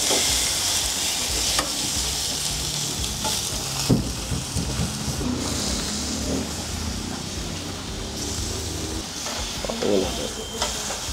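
Marinated ribeye sizzles in a hot pan with a steady, close frying hiss and occasional stirring scrapes. Someone speaks briefly over it.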